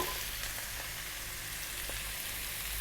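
Leftover turkey frying in a pan, a steady soft sizzle and crackle with faint pops, continuous and fairly quiet throughout.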